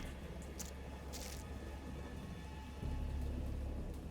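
Steady rain patters over a low rumble of thunder that swells louder near the end, with occasional brighter drops.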